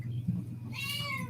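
A pet cat meows clearly at close range, a single drawn-out call rising over a low household hum, with no talk alongside.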